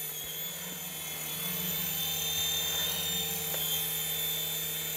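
A small budget beginner RC helicopter flies nearby with a steady, high-pitched whining buzz that holds at a constant, fairly faint level throughout.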